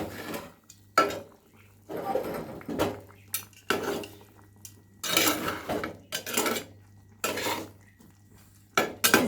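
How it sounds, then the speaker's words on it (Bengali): Ridge gourd curry being stirred in a pan, a run of scraping, clattering strokes of a utensil against the metal coming in irregular bursts, close and fairly loud, with a low steady hum underneath. "নাড়াচাড়া করে দিই।"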